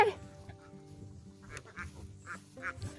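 Scattered quacking from a few ducks at moderate distance, short irregular calls over a quiet outdoor background.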